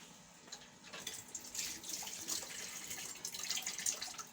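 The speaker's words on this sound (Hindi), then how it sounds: "हाथ धो लूँ जल्दी से।" Hands being washed under a running kitchen tap, a soft steady stream of water with light splashing, quiet and close, with no talk.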